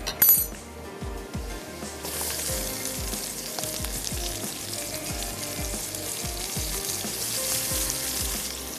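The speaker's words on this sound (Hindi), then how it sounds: "चलें, अब शामिल कर देते हैं इसमें ये मसाला लगा हुआ गोश्त।" Spice-marinated meat fries in a pot for Sindhi seyal gosht. A steady, loud sizzle carries on throughout, and frequent metallic clinks of stirring break through it.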